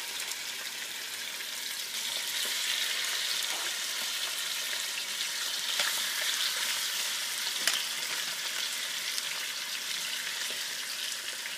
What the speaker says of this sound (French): On va faire revenir la viande pour la brunir un peu, là.